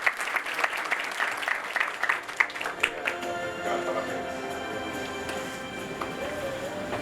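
A crowd applauds an honoree at a Brazilian medical society award ceremony, scattered clapping at first that settles into a dense, even ovation, with tonal music rising underneath.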